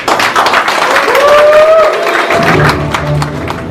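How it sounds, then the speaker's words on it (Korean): An audience at the opening ceremony of the Kim Dae-jung Foundation's Yongin branch claps to welcome a speaker, a moderately loud spread of applause with crowd murmur and some voices mixed in, tapering and thinning toward the end. "모두 박수로 맞이해 주시죠."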